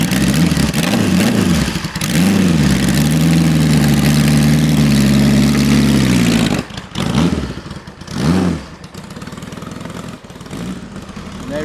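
A motorcycle engine idles steadily while warming up toward operating temperature, a loud, close, even drone for about six seconds that then breaks into a few uneven blips and revs before settling into a quieter, rougher idle.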